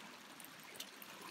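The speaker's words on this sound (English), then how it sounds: "we've been walking along a nice stream like this for the last half mile" A cold mountain stream flows beside a hiking trail on the John Muir Trail near Clouds Rest and Half Dome, a soft, even rushing wash heard faint and steady without voices.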